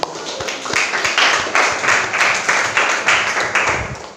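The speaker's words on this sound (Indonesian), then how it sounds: "beri tepuk tangan buat mereka dulu" A classroom of eighth-grade students claps for classmates, a loud near burst of hand claps swelling in rhythmic pulses, uneven and lively, with no talking over it.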